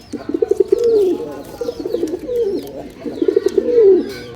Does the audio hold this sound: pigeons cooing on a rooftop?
yes